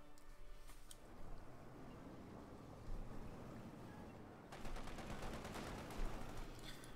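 Gunfire crackles in the World War II strategy game Company of Heroes 2, with bursts of rifle and machine-gun fire over a rushing battlefield ambience, fairly faint, growing denser in the final seconds.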